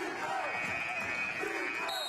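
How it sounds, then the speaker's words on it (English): Marine Corps fans roar at a close basketball game against Navy, a loud sustained crowd noise with shouts and whistles over it and an arena buzzer sounding near the end. "Listen to that Marine Corps crowd."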